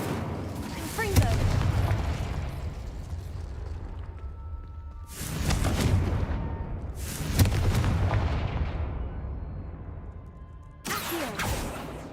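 Incendio and Confringo spells cast in a Harry Potter video game, a series of heavy booming bursts, about four blasts with long decaying tails, loud and close.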